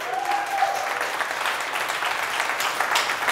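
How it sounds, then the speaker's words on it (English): A gym seminar crowd at Barbell Brigade breaks into applause, brisk, fairly close clapping of a modest group with a few louder claps standing out near the end. "give him a round of applause"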